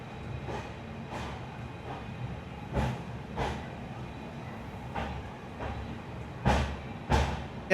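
The Vivek Express train sits at Visakhapatnam Junction. Regular soft thumps and clanks of the railway carriages repeat over a low, steady rumble, with no talk.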